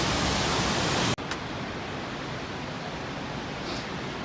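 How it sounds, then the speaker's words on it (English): A waterfall on the Berg Lake trail gives a steady, broad rushing roar. Partway through, a brief dropout is followed by a slightly quieter continuous wash of falling water. "One waterfall."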